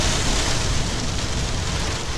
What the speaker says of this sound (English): Because the wind is insane